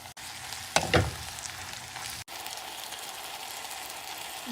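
Chopped ridge gourd goes into hot oil with fried onions, setting off a steady, soft sizzle, with a brief louder scrape of stirring early on.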